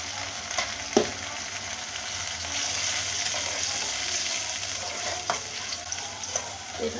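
Chicken pieces with ginger-garlic paste and a splash of water sautéing in a hot pan, a steady sizzle and bubbling with a few sharp spatula clinks as the mixture is stirred.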